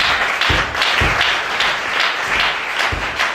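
A church congregation claps in a steady rhythmic beat, roughly two claps per second, while acclaiming the Lord during a worship service. The sound is loud, close and continuous, with no talking over it.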